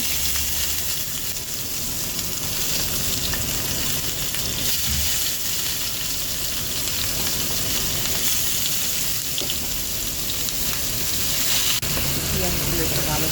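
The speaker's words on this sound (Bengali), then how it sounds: "করে একটু ভাজা ভাজা করে নেব হালকা লাল লাল করে বাদামি করে" Chopped onions and nigella seeds fry in hot oil with a continuous loud sizzle, a steady crackling hiss throughout with faint background activity.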